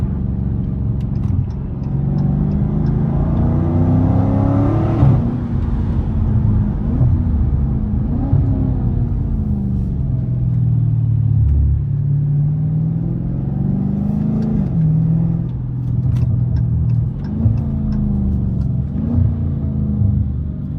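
A Dodge Challenger Scat Pack 392 V8 pulls hard on a highway, its loud, steady engine roar climbing in pitch through each gear and dipping briefly at the shifts, close and continuous throughout with no talking.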